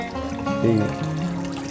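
Circulating water pumped back into a lobster pond, a close steady pour and trickle with harmonic pump hum underneath, no voices.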